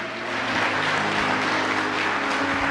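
A church congregation applauds in a steady, sustained wash of clapping that fills the hall, with a low hum of organ or keyboard under it.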